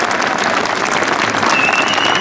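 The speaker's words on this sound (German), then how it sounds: "aber einen riesigen Applaus von Walter." Loud, sustained crowd applause at an outdoor village festival in the Tyrolean Alps, a dense continuous roar of many hands clapping with no break.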